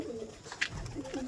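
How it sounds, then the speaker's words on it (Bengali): A domestic pigeon gives a brief, soft, low coo, close but quiet against faint background noise. "এই পায়রাটা এই যে"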